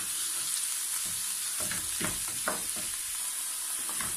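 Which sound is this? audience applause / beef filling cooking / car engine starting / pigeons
beef filling cooking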